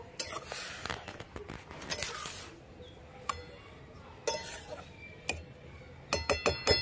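Radish being stirred in a cooking pot: sharp metallic clinks and scrapes of a utensil against the pot arrive in irregular bursts, with quiet gaps between them and a quick cluster of taps at the end.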